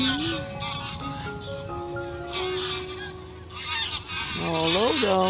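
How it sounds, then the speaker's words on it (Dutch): A large flock of geese honks loudly and continuously in a pasture, with overlapping calls close by and some speech mixed in. "Allemaal ganzen."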